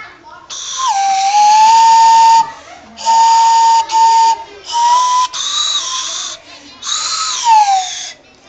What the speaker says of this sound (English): going to show us how to make a carrot whistle